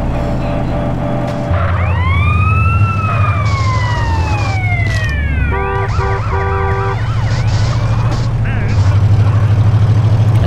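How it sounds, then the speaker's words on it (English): Police car siren in GTA San Andreas during a chase, wailing and then yelping, with a rumbling vehicle engine underneath and a voice talking over it. "And we got the police car coming, just chasing us."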